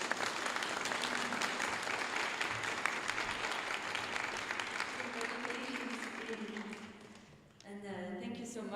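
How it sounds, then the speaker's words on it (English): An audience gives Jerry a warm round of applause at an award ceremony, steady dense clapping for about seven seconds that fades out as a voice begins speaking, with faint talk underneath throughout. "A warm round of applause for Jerry."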